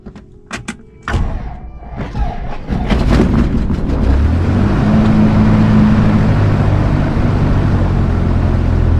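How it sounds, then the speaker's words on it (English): A small private airplane engine starts up: a few sharp clicks and cranking thumps, then the engine catches and builds into a loud, steady droning roar with a low harmonic hum that carries on alone. "let's get this engine started"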